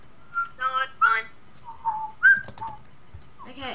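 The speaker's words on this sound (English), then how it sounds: "Okay, stop whistling." A person whistles during a Minecraft skyblock session, short bright melodic phrases broken by pauses, close and fairly loud, with brief bits of other noise between the notes.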